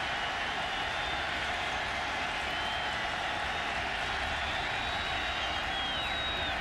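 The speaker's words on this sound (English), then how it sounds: "Panthers crowd bringing the noise on third and three." A Pittsburgh Panthers football stadium crowd in 2006 against West Virginia, a dense, loud, continuous roar of noise on a third down, with no clear voices above it.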